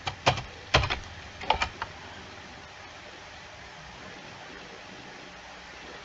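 A few quick keystrokes on a computer keyboard, close and crisp, clustered in the first two seconds, then a quiet hiss with no further typing.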